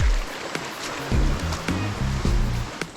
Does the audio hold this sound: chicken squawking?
no